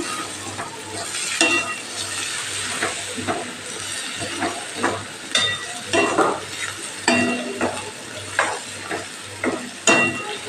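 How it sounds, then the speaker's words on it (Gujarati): Fenugreek leaves sauté in a hot pan for a garlicky methi dish, giving a steady hiss and sizzle broken by repeated scraping stir strokes, close and fairly loud, with no talking. "એકદમ મેથીની ભાજી સંકોચાઈ જાય ત્યાં સુધી આપણે એને સાતળવાની"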